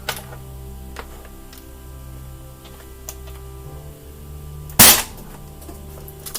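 A modded Nerf Kronomag blaster with a 14 kg long shot spring and a shorter barrel fires a green rival round in one sharp, loud crack, with faint ticks and a low hum before it.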